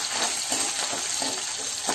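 Hadjod (changalam paranda) plant sautéing in a pan, a steady close sizzle with a few soft stirring scrapes over a short stretch, no voices present.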